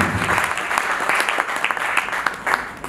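Audience applause at a poets' honouring ceremony: a continuous crackle of many hands clapping at moderate volume, with no talk over it.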